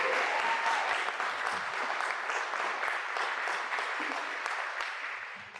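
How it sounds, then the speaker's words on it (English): Audience applause at a Cowrie Scholarship Foundation event, welcoming a debate speaker to the stage: a dense, steady wash of clapping from a crowd that tapers off slightly toward the end. "A round of applause."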